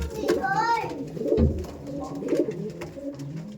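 Andhra pigeons coo nearby in low, throaty rolling calls that overlap one another, with a brief thump and some faint chatter around them.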